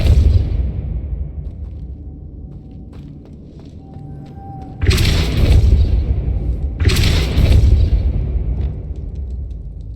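Depulso force spell cast in Hogwarts Legacy, heard as two loud whooshing bursts that flare up abruptly and then decay, spaced about two seconds apart over a low rumbling background with small scattered clicks.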